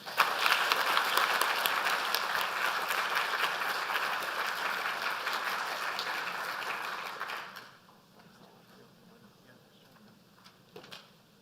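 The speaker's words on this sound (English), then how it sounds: "I would just like to ask for one more round of applause" A conference audience in an ICFP auditorium applauds, loud and sustained for about seven seconds, then drops off sharply into quiet room tone with a few stray claps.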